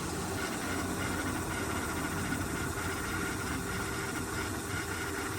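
A Ridstar Q20 budget e-bike's motor runs at full throttle in its top assist mode, a continuous, steady loud whine and rumble mixed with broadband rushing noise, unbroken for the whole stretch and with no talk.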